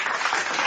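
Dense, steady applause from a podcast audience, continuous clapping at an even loudness throughout a brief burst with no talk over it.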